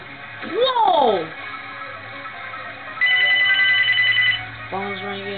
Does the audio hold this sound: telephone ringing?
yes